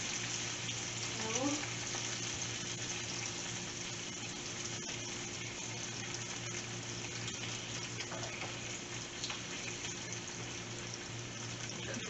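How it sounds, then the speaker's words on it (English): Bacon fries in a pan with a continuous, quiet sizzle and crackle, joined by a steady low hum. "while the bacon is cooking"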